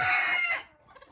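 A tame hen clucks loudly and close by in one drawn-out, harmonic call, then trails off into a few softer, scattered clucks.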